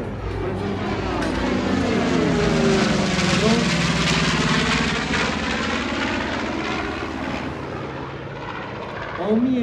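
North American B-25 bomber at the BIAS 2018 airshow, its 1,700-horsepower piston engines roaring loud and steady overhead for the whole stretch, the pitch shifting slightly as it passes, with a commentator talking over it.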